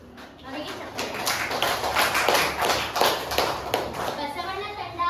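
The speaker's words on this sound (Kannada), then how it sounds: "ಅವರಿಗೆ ಚಪ್ಪಾಳೆ." A ninth-grade classroom applauds the winning team of a social science quiz, with dense, rapid clapping that swells after a quiet start and carries on steadily among children's voices.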